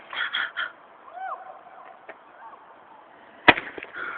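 Backyard fireworks pop and crackle, with a sharp loud bang near the end among fizzing, whistling bursts as people shout and talk excitedly.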